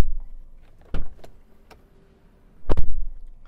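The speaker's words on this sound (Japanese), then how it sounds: "でドア閉めた音はこんな感じ。" Door of a Nissan Roox Highway Star G kei car closing; two solid thuds, a lighter one near the start and a heavier, louder one near the end, with faint mechanical clicks in between and no talk.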